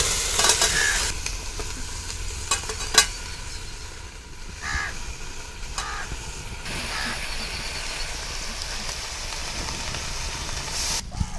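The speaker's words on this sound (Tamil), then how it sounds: "இப்போ நம்ம கழுவி எடுத்து வச்சுருக்கிற இந்த மட்டன் இதோட சேர்த்துக்கலாம்." Mutton pieces are added and stirred into hot oil with frying ginger garlic for Chettinad mutton kulambu, producing a steady close sizzle and hiss broken by scraping stirs, with crow-like caws briefly in the background.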